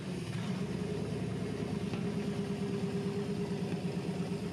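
A V8 engine in a Chevrolet S10, fitted with FiTech fuel injection and a reset distributor, idles at a steady, even rumble with a low throbbing pulse, close by and alone.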